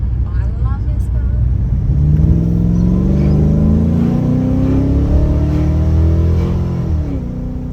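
Ford Fairlane 5.0 V8 with a stage 3 cam revving loud and close, a deep lumpy rumble whose pitch climbs and then falls back as the throttle is worked, with voices talking over it.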